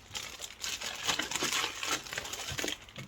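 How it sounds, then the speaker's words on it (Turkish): Two sheets of A4 paper being handled, giving close, continuous crinkling and rustling with soft crumpling bursts throughout, no voices present. "Şimdi İki tane A4 kağıdımı aldım."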